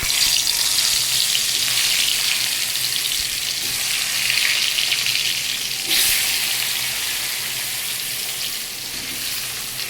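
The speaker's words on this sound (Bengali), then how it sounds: "কড়াইয়ে তেল গরম করতে দিয়েছি। আবার এটাকে আমি ভেজে নেব।" Round slices of spiny gourd (kakrol) fry in hot oil in a kadai, giving a steady, loud close sizzle with a brief sharper crackle midway and no talking.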